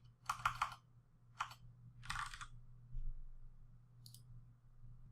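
Several short bursts of keystrokes on a computer keyboard, heard close up in a quiet room against a low steady hum, with pauses between the clusters of clicks.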